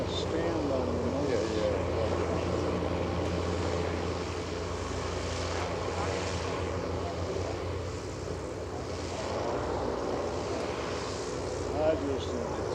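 Goodyear airship engines at EAA AirVenture run with power shifted from one side to the other, a steady propeller drone with shifting intensity over a low rumble, while people talk over it.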